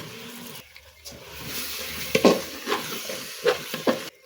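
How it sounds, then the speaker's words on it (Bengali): Washed rice and masoor lentils tipped into a cooking pot for egg khichuri, a quiet sizzle with scattered scraping, clinks and soft pours from close by, no talk. "এখন ধুয়ে রাখা চাল আর ডাল দিয়ে দেব"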